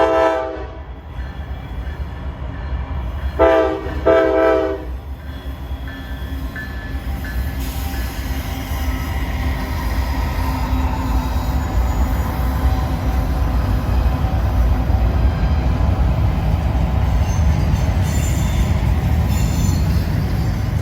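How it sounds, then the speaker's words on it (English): A Norfolk Southern freight train rumbles around Horseshoe Curve, a steady heavy roll with squealing wheels on the bend and a horn blast near the start, continuous and loud throughout. "watching the trains as they rumble by is the best thing about Horseshoe Curve"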